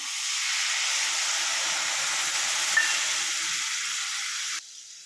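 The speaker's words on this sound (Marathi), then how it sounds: "पाण्याला उकळी पण आलेली आहे" A loud, steady hiss of water at a rolling boil fills the clip, then cuts off abruptly near the end.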